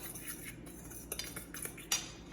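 Dry ingredients and granulated sweetener being stirred in a bowl for a low-carb carrot and apple cake, a steady run of light utensil scraping and clinks against the bowl, close and continuous, with a few sharper taps.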